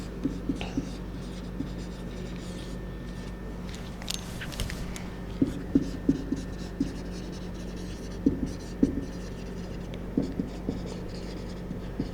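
Scientific names are handwritten, likely on a board, making repeated short tapping and scratchy strokes in uneven clusters over a steady low room hum.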